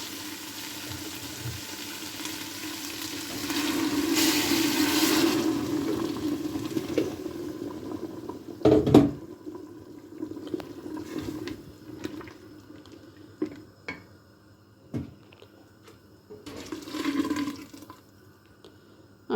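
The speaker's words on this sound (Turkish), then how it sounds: "Şimdi sıcak su vereceğim birazdan." Hot water is poured into a pot of cooking meat for a Turkish forest kebab, a sustained splashing rush, followed by a sharp knock and lighter clatters and bubbling as the pouring stops.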